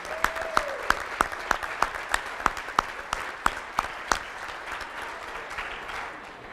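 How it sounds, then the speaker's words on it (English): Scattered hand claps ring out in a room at a Hall of Fame ceremony, a dozen or so sharp, separate claps at an uneven pace from a small group, fading after a few seconds. "Let's give them a round of applause"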